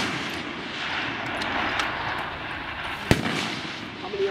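A single rifle shot at a long range shooting match cracks out sharply once, distant and brief, over steady outdoor background noise.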